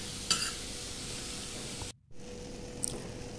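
Corn and carrots sauté in a pan for mini pizza topping, giving a soft, quiet sizzle with light stirring scrapes and a brief pause midway.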